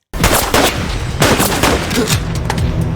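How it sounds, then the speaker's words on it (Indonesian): Sniper gunfire in a TV series action scene: sharp, loud shots crack out near the start and again around the middle, set in a dense, busy backdrop of blasts and rumble with no clear talk. "Seorang sniper menembak anak buah Hitchin itu dari arah yang tidak diketahui"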